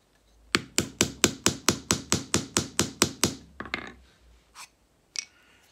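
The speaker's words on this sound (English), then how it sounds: "you get the dowel, and you just get the hammer and knocks the primer in" Hammer striking a dowel to seat a primer in a black powder shotgun shell during hand loading, fourteen close, sharp, evenly spaced taps followed by a few softer knocks and handling sounds.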